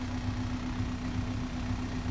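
An old Perkins diesel engine runs steadily with a slight vibration, a low constant drone and hum heard close up with no talk over it.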